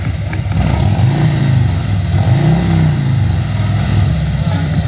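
A Jawa motorcycle at a rally exhibition revs loudly and close, its engine rising and falling in repeated throttle blips over a rumbling idle.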